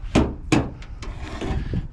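Sharp scraping and prying bursts as chrome trim is worked off a 1962 Cadillac trunk lid, two loud pops followed by lighter creaks and rubs, close and without talk.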